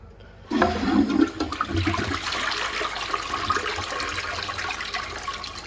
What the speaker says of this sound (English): Alright, let's flush this again.